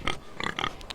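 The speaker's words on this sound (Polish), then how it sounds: "Mogę pogadać ze świnią." Pig grunts from a video game set in the Game of Thrones world, three short snorting bursts close up at moderate volume with no talk over them.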